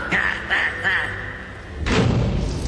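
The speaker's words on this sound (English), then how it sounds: "the sound of that door slamming" A heavy door slams shut in a Batman and Robin audio drama: one loud, close, booming thud near the end, with voices talking over it.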